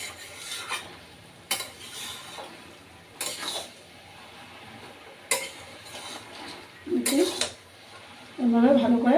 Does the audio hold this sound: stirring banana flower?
yes